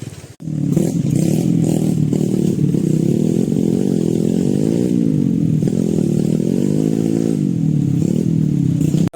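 Motorcycle engine without front or rear brakes, idling and revving steadily near a fast-flowing river, with rising and falling pitch sweeps through the run and no talk over it.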